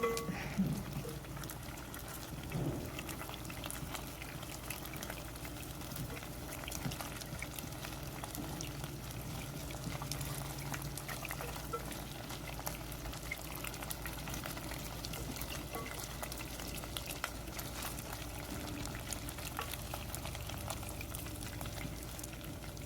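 Meatballs browning in a frying pan give a steady, soft sizzle that runs evenly throughout with no talking over it.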